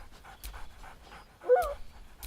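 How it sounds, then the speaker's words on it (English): Scratch, a dog in the video game Baldur's Gate 3, pants softly in a quick steady rhythm, then gives a brief higher whine near the end, all close up and quiet with no speech. "Scratch barks merrily in something like agreement."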